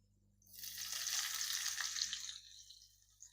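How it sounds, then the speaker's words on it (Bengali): Chopped onion, garlic and ginger hit a hot pan and sizzle loudly for about two seconds, a bright frying hiss that then fades away, with no talking. "এবার আমি কিছুটা পরিমাণ পেঁয়াজ কুচি দিয়ে নেব।"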